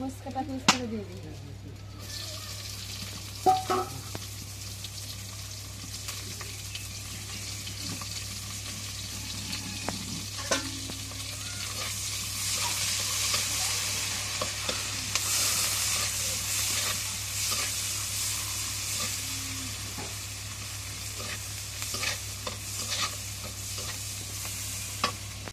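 Green chillies stir-fried in hot oil in a wok, giving a steady sizzle with scattered stirring clicks and scrapes throughout, near and moderately loud, with no talking.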